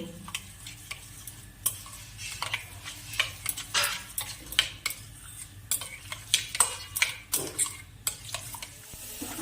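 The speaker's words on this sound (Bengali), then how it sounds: "আমি পাত্রে যে দুধটা নিয়েছি সেখানে গুঁড়ো দুধগুলো দিয়ে ভালো করে এটা গুলিয়ে রেখে দেব" A spoon stirs powdered milk into milk in a metal pot, scraping and clinking in a steady run of sharp strokes, close and fairly quiet, with no talking.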